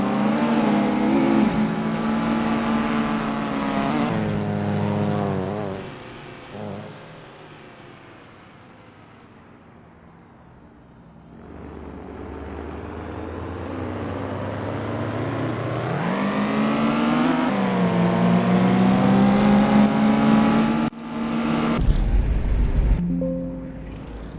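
A classic touring car engine on an outlap around Union Island in Assetto Corsa, revving loudly through gears, easing off to a low idle-like lull, then climbing again in long sustained pulls and a sharp shift near the end.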